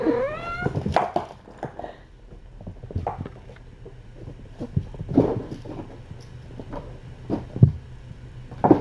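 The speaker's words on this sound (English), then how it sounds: "Oh, look at that ferocious kitten. Look, they're tag teaming." Tiny kittens play and tussle together with high-pitched mews, thumps and scuffling, along with a little light talking early on.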